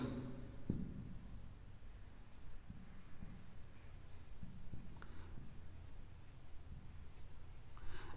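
A pen writes out accounting entries on paper during a partnership final accounts balance-sheet lesson, with faint, steady scratching strokes over low room noise and no talk.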